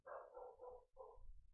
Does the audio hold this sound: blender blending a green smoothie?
no